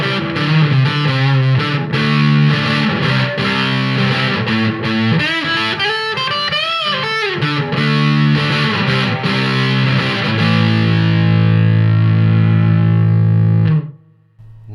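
Electric guitar played through a Robert Keeley Rotten Apple fuzz pedal: thick, saturated, heavily distorted notes and chords sustain loudly, ending on a long held chord that cuts off abruptly.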